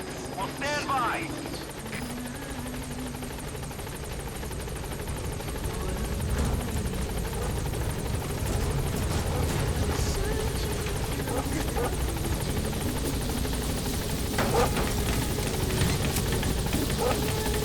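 The Pequod helicopter in Metal Gear Solid 5 arrives with a steady, close rotor drone that holds throughout, under game radio voices and talk.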